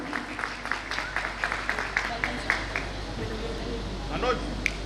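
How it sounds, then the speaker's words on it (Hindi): Applause from a gathering at a company Diwali celebration, a steady patter of clapping at moderate distance with a few louder claps and a voice briefly rising through it. "मैं रिक्वेस्ट करूंगी सर के लिए, अशोक भारती जी के लिए भी जोरदार तालियां"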